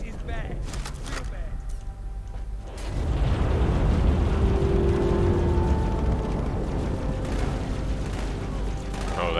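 Allied troops firing in Halo 2: Anniversary on Cairo Station, a dense rumbling wash of distant gunfire and explosions that swells in and holds loud. A voice talks over it briefly.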